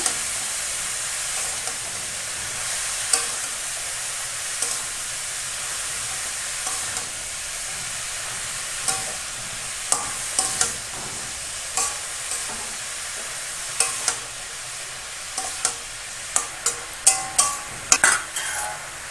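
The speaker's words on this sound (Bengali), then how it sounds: "হলুদ দেবো ভালো করে নেড়ে নেব" A spoon stirs turmeric and salt into a sizzling fish-head curry of rohu with ash gourd, steady frying hiss underneath and a string of scraping clinks that grows quicker and louder toward the end.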